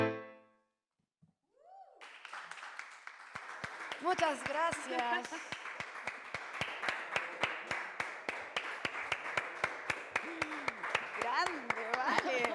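Audience applause after a live song at an intimate evening performance, steady claps and cheers building and continuing for several seconds while a voice speaks over the crowd.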